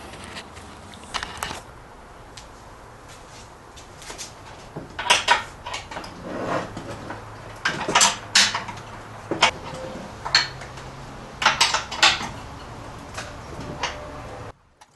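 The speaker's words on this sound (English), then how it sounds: "So I think I'll start by tightening up those bolts inside." Bolts being tightened on a wooden table, heard as a sparse series of sharp metallic clinks and taps, some in quick clusters, over a quiet background.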